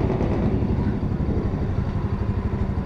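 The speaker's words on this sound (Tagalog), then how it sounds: "Tahimik yung makina niya pag ganyan lang" A Euro Marvel 125 underbone motorcycle engine idles quietly and evenly up close, a soft steady low putter with no revving throughout.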